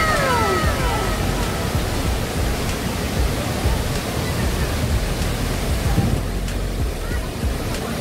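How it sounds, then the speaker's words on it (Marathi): The Thoseghar waterfall in Maharashtra, swollen by August monsoon rain, gives a loud, steady roar of rushing water that fills the whole stretch without a break. "बघा छोटा धबधबा"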